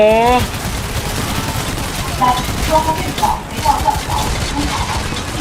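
Steady gunfire in Payday: The Heist, a continuous rattle of shots under a player's speech and the game's other noise.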